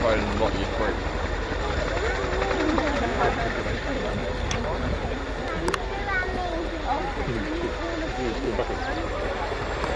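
A Chinook helicopter taxiing at the Royal International Air Tattoo air show, its rotor and engine noise a steady, loud drone with some crowd and background noise throughout.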